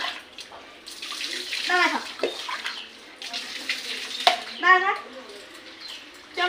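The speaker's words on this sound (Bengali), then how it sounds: "2 বালতি জল ভরতে দাও" Tap water running into buckets for a bath in a home bathroom, a steady splashing flow under frequent nearby talk from adults and a child.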